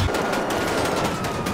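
Rapid automatic gunfire in GTA 5 aimed at a car's tires, a dense burst of closely spaced loud shots over a short stretch with no talking.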